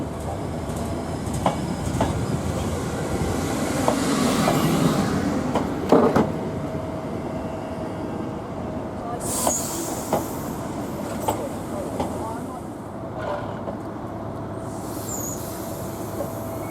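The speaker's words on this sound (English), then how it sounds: "we notice a Class 90 heading into the station with a train from London" A Class 90 locomotive hauls a train from London into Norwich station, its steady rolling rumble sustained throughout with faint wheel clicks and a brief high squeal midway, heard at moderate distance without talk.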